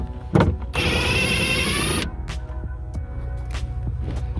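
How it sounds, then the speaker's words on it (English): A Ryobi brushless impact driver whirs loudly for about a second while backing out rear bumper bolts on a Ford Focus, then stops, leaving faint clicks and handling noises. "I brought my Ryobi brushless impact driver. So I'm gonna use this instead of, you know, good old fashioned ratchet"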